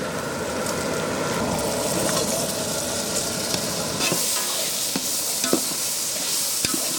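Onion, turmeric and salt sizzling in hot sesame oil for vatha kuzhambu at a wedding-feast cookout, a loud steady frying hiss with scraping stirs and occasional ladle knocks.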